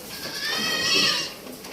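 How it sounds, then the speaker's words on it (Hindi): Barbari goat kids bleat in a single loud, close, wavering cry lasting about a second, with faint background noise around it. "देखिए बर्बरी की बकरी के बच्चे क्या चीज़ होते हैं वो सामने आपको दिखेगा।"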